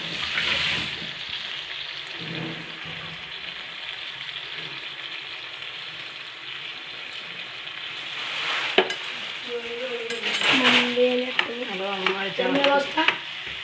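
Prawns shallow frying in oil for prawn biryani: a steady close sizzle with stirring scrapes running throughout, and near the end people talking over the frying.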